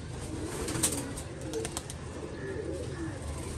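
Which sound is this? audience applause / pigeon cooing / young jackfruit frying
pigeon cooing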